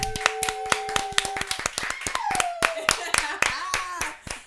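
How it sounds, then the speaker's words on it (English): Several people clap in sharp, uneven bursts with cheers and excited voices mixed in, while talk carries on in a casual podcast setting. "I love it when we have people in the background cheering us on and stuff"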